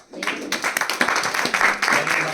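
An audience breaks into applause, a dense burst of many hands clapping that swells quickly and continues briefly, fairly close.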